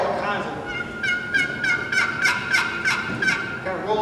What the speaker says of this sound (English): That's a box call, crow calls, there it is.